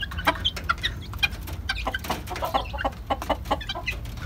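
Young Boston gamefowl stags cluck close by in rapid, overlapping bursts that continue without a break, with no voices heard over them.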